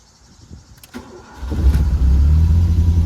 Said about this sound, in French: Et là, elle démarre et elle tient le ralenti